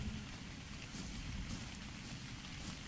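Rain in the video game ARK Survival Evolved falls as a steady, even hiss with soft pattering, constant and moderately quiet with no distinct events standing out.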